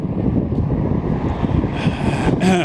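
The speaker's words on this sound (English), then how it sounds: "Now the fucking wind is coming from the south. I don't even know if you're gonna hear everything I say." Wind gusts buffet the microphone on a walk along Peel Street in downtown Montreal, a loud continuous low rumble that swells and dips, with faint street sound near the end.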